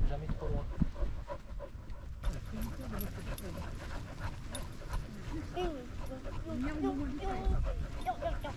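A dog pants and gives small whimpering yips nearby while people keep talking over it the whole time.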